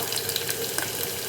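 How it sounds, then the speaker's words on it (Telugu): Garlic, cumin and mustard seeds frying in hot oil for a tempering, giving a steady, even sizzle with light crackle throughout and no talking. "కొంచెం వేగనిద్దాం."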